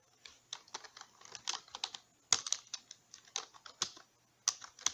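Typing on a computer keyboard, with quick irregular bursts of crisp key clicks close to the microphone and brief pauses between them, with no talking.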